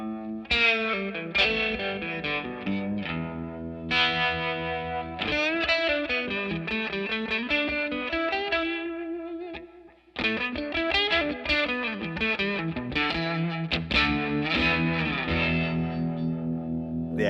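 An electric guitar runs through a Fender Tre-Verb pedal set to harmonic tremolo with analog delay, playing sustained chords and melodic lines with a pulsing, echoing wash, loud and close, with no talking.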